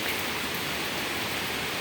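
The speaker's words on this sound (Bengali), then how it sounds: "প্রচুর ঝড় বৃষ্টি" Heavy stormy rain pours down over Gulshan, Dhaka in a dense, steady hiss, with no voices heard during the brief stretch.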